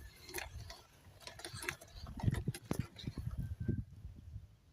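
A hand-cranked manual coffee bean grinding machine gives irregular close-up crunching clicks and rattles, bursts of grinding at an uneven pace that grow denser toward the middle, with faint murmuring underneath.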